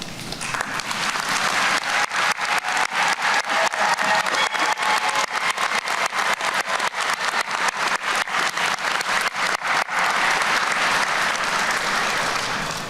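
An audience at the 2024 Western Piedmont Community College evening graduation ceremony applauds its faculty and staff: loud, dense, sustained applause filling the hall for about thirteen seconds with no talk over it.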